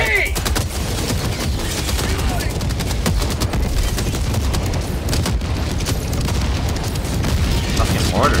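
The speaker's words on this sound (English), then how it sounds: "Fucking mortars." Mortar shells and gunfire in Helldivers 2 on a bug planet, a continuous loud barrage of booms and rapid shots filling the whole stretch without letup, with voices talking over the chaos.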